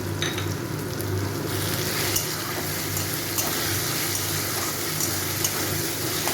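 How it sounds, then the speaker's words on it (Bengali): Sliced onion, tomato and green chillies frying in a pan, a constant soft sizzle with occasional faint clinks and stirring scrapes, moderately loud and close, no speech. "পেঁয়াজ আর এই টমেটোটাকে আমি একটু 2-3 মিনিট ভালো করে ভেজে নেব।"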